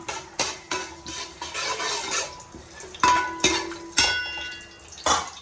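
Tempering stirred in a cooking pan with a metal spoon, producing close, sharp clinks and scrapes against the pan in irregular bursts, some ringing briefly, over a faint sizzle of hot oil.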